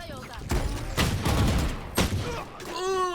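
Valorant gunfire: loud bursts of rifle shots in a few quick clusters, with game effects ringing between them and a voice speaking over the action.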